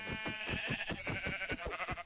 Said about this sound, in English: I'm killing their sheep